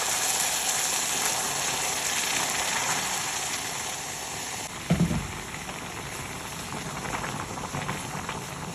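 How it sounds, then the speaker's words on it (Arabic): Hot water pours onto toasted carob in a pot, a steady boiling hiss and gush that swells with a brief thud midway, then settles back into a bubbling rush. "هننزل دلوقتي بميه سخنه"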